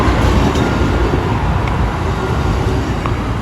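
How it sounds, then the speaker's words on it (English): Amtrak's Auto Train, a long string of Superliner cars, rumbles past close by in a steady, loud roar of rail and wheel noise with no pauses. "Just it's the Auto Train."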